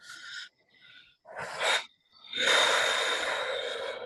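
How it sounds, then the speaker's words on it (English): A person takes a deep breath during a calming exercise: a short sharp inhale, a quieter pause, then two long, loud, airy breaths close to the microphone, with no talking. "just take a deep breath"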